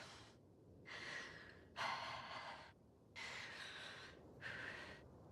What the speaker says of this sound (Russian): Тяжело дышать.